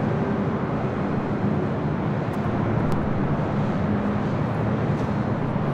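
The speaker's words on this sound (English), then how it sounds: "Still have the Emirates A380 making its way up to the north side for a departure on 24 left." An Emirates A380 airliner taxis for departure, heard as a steady, broad, distant engine rumble and roar with no clear rise or fall throughout.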